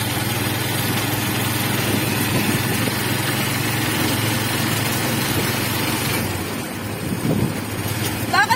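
Small motor engine of a boat at a pier, running at a steady rough idle close by for several seconds with wind buffeting the microphone, and a brief shift in tone near the end.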